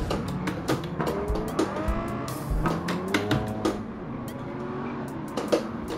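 Racing car engine from the Gran Turismo 7 video game, played with a Logitech G923 wheel, rising and falling through gear changes with bursts of tire squeal, loud and close, with no talking.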